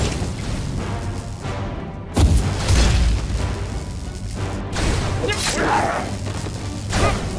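Booming explosions and whooshes in the video game Sacred 3 over game music and effects, with a loud cannon blast partway through.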